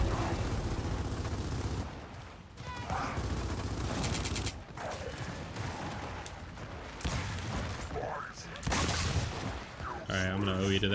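Gunfire in the Gears of War multiplayer game on the Clocktower Escalation map, with dense bursts of rapid shots and booms throughout, mixed with game sounds and some voice.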